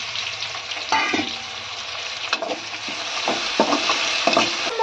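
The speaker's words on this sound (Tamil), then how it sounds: "தக்காளி வெங்காயம் நல்லா வதங்கி வரட்டும்" Green chillies, tomatoes and onion sautéing in a pan for a field bean curry, a soft steady sizzle broken by bursts of spatula stirring and scraping close by, with no one speaking.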